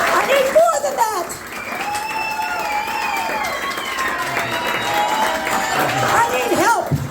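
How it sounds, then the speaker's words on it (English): Audience applause and cheering at a birthday show, mixed with voices and whoops; the clapping stays fairly steady throughout at moderate volume, with people talking and calling out over it. "so I need some applause"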